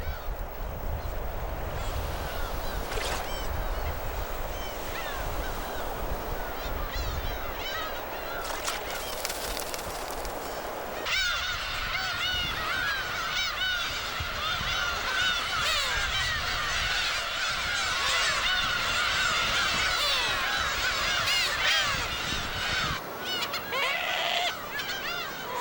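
A dense colony of black-tailed gulls on Dokdo calls continuously, overlapping honking and mewing cries layered with some surf or wind noise, loud and steady throughout with no talking.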